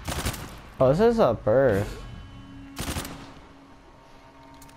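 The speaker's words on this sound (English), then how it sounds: "I hear shots." Video game gunfire in Uncharted 4 comes as two short, sharp bursts, one at the very start and another a couple of seconds later, around a man's playful singing and talk.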